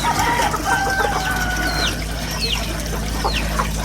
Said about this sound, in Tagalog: Ito ang mga itik.